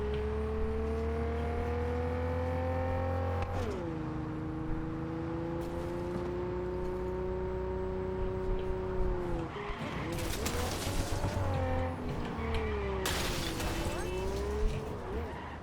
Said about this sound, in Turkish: Araba da güzel ha hızlı gidiyor.